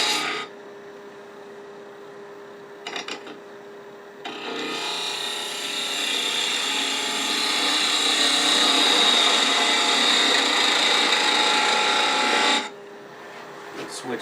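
A wood gouge cutting a spinning workpiece on a lathe, with a steady close scraping rasp that builds and holds for several seconds after brief bursts, then stops abruptly.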